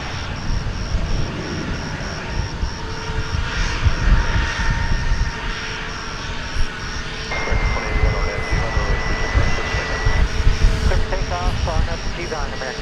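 Jet airliner, American flight 2081, taking off at DFW Airport, a broad steady engine roar sustained throughout at moderate distance, with a tonal whine joining midway; a voice talks over it.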